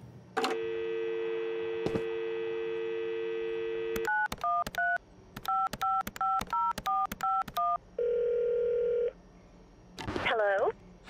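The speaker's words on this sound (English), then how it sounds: "Oh, there's the phone." A telephone in a video game rings with a sustained tone. A rapid series of short dialing beeps follows, then a steady busy-style tone and a warbling electronic chirp, all close and clear with no talk.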